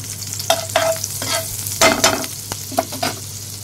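Oil and butter heat in a pan for a dhaba-style malai soya chaap gravy, giving a steady close sizzle with a few short bursts of crackle and utensil clatter and a low hum underneath.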